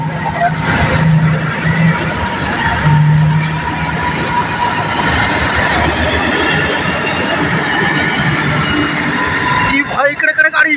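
Large vehicles rumble through a coal mine in a steady, loud, low drone, with voices briefly audible near the end.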